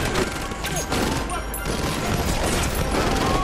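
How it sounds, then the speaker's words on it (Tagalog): Gunfire roars through a film shootout between a robber and FBI agents, a dense, continuous barrage of shots and booms with crashing debris, loud and chaotic throughout. "bigla itong naglabas ng baril at nagpaulan ng bala"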